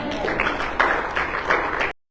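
A church congregation at a Sunday service breaks into steady applause, a dense, moderately loud wash of many hands clapping for about two seconds before cutting abruptly to silence.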